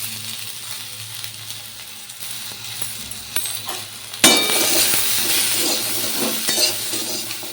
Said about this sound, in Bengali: শুকনো লঙ্কা সাদা সর্ষে ফোড়ন দিয়ে দিয়েছি সর্ষের তেলে